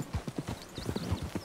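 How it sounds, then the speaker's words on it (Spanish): Horse hooves clip-clopping in Red Dead Redemption 2, a steady run of distinct close hoofbeats with a brief whinny-like tone midway, heard alone without talk. "Caballo parecido, hola."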